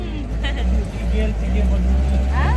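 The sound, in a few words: auto rickshaw engine while riding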